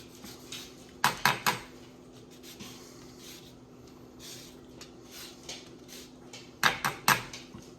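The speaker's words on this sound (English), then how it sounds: "This is a microplaner is what I have here for the zesting" A microplane scraping over lemon peel makes a soft, steady rasp beneath sharp metallic clicks and taps of the grater, with a few louder clatters near the start and end, close and quiet.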